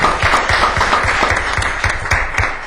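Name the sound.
applause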